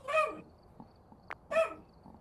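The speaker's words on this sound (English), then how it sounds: "I heard a dog on my right side" A dog barks in the Phasmophobia video game: two sharp, mid-loud barks about a second and a half apart, with a faint click between them and no talking over them.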